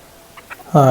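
Aseel cross Peruvidai country chickens on a small farm give a couple of faint soft clucks, then one louder, close, drawn-out call.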